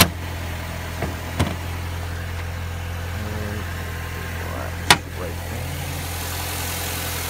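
A 2005 Mini Cooper Convertible with a 1.6 four-cylinder engine idles steadily with a low hum, broken by a few sharp clicks and thumps, while someone speaks briefly.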